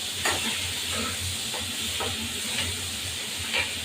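Big prawns sizzling in hot oil in a pan make a continuous close hiss, broken by light scraping taps of a stirring utensil at regular intervals.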